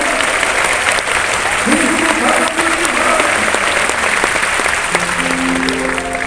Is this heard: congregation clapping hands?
yes